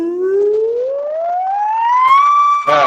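A rising electronic test tone sweeps steadily upward in pitch, sounding much like an ambulance siren, loud and alone for about three seconds before a brief burst of noise at the end.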